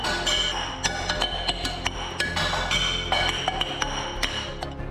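Glass clinks and pings in a quick irregular series of sharp, bright taps, fairly close and loud, over a dense ringing background with no talk.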